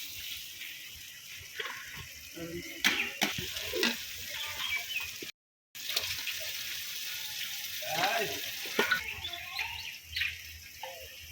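Country chicken frying with spice masala in a pan, producing a low, uneven sizzle with scattered stirring clatters and a brief dropout midway.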